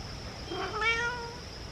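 A single drawn-out meow from a pet cat, moderately close and fairly soft, rising and falling over about a second against a quiet indoor background.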